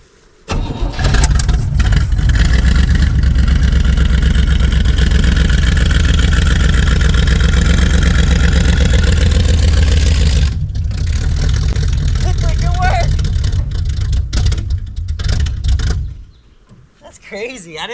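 An old Chevrolet 210 engine roars loudly and steadily while the car drives, a dense continuous rumble that drops off abruptly near the end, with voices talking over it.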